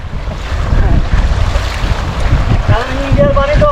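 Loud, continuous rushing of waterfall stream water at Bichanakandi fills the clip up close, a broad steady roar with a few brief tonal sounds near the end.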